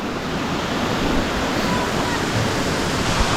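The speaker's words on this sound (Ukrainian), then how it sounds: "Зараз вам ще водоспадик підзніму." Small mountain waterfall in the Carpathians, a continuous loud broadband rush of falling water close by, with no voices.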